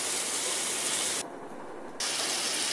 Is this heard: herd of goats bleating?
no